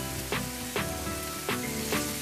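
Chicken tikka sizzling steadily in a frying pan, a close, even hiss with several soft crackling bursts every half second or so, no voices.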